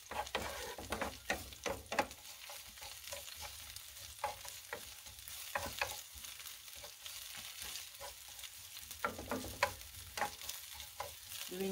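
Sliced onion sizzling and frying in a pan, with a steady faint crackle and repeated scraping stirs of a utensil throughout, no voices.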